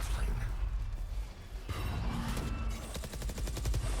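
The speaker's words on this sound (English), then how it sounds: "Just a stinger and some sheriffs. They're making a ton of noise here" Stinger and Sheriff gunfire in the video game Valorant during a Cloud9 versus FURIA match on Lotus, rapid clustered shots and a final quick burst of repeated fire over busy game ambience.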